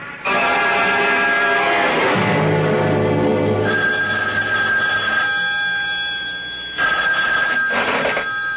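A telephone bell rings loud and continuous as a radio drama sound effect, with a brief pause before ringing resumes near the end.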